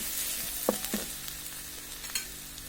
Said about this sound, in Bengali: এখন আমি তেলটা গরম হয়ে আসছে, এর মধ্যে আমি যে থেতো করা রসুন আছে সেটা দিয়ে দিচ্ছি।